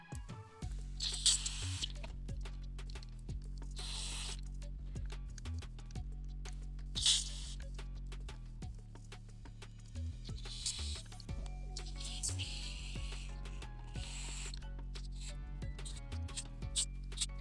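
Contact cleaner sprayed into the pots of a vintage guitar amplifier gives repeated short, close hissing bursts separated by pauses, over a steady low hum.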